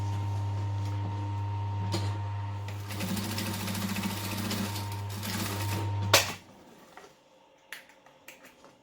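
A domestic sewing machine runs a back stitch along the lined-up edges of a fabric bag, a loud steady mechanical whirr for about six seconds that stops abruptly, followed by a few faint clicks and handling taps.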